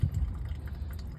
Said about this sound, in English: the valve just a little bit, just so it'll kind of trickle out